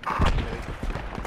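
A short burst of gunfire in the military shooter Project Reality, several rapid muffled shots and thuds close together over about a second, fairly loud with no talk.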